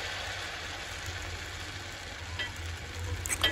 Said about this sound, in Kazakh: алдын ала қызып дайындап қойған майымның үстіне клярдағы баклажандарын салып, жақсылап қызарғанша қуырып аламын